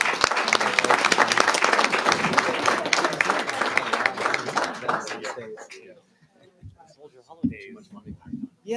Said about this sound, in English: a big round of applause for our teachers